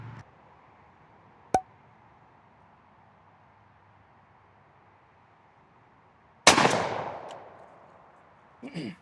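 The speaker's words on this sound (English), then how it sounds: "we're still shooting at 40 yards" Two shots from a 20 gauge Winchester SXP shotgun firing Federal Premium Realtree 40th Anniversary 1 5/16 ounce number 5 turkey loads at 40 yards: one sharp crack early, then a much louder blast with a long ringing decay.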